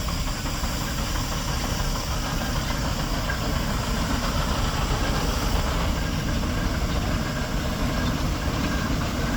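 Steam traction engine Eileen pulling away at a steam preservation rally, a loud, steady, dense mechanical chugging and rumble that fills the whole stretch without pause or voices.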